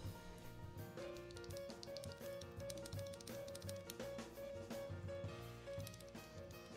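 Clicks from a mechanical keyboard switch on an Ocelot R2 keyboard come as a fast run of sharp, close taps, with a steady tone running underneath.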